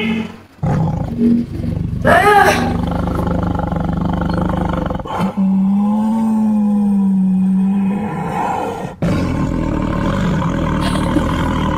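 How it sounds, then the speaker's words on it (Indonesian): A tiger roars loudly and close, with a rising snarl followed by a long, deep, sustained roar and a final abrupt burst, heard alone without talk. "Suara macan mas ya?"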